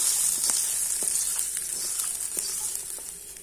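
Hot tempering with curry leaves and asafoetida pours into tomato chutney, giving a bright, continuous close sizzle with small crackles and occasional stirring taps.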